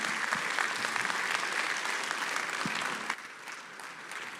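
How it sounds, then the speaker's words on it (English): Steady applause from a conference audience at a quantum computing congress welcome reception, continuous clapping that thins out toward the end. "Can we have a big round of applause, please?"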